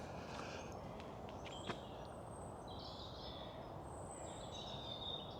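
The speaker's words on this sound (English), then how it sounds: "I can hear the blackbirds, you can hear the crows." Dawn chorus in the countryside with blackbirds and crows: faint, distant bird calls and chirps drift over a steady hiss of outdoor background, broken by one sharp click.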